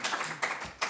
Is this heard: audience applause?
yes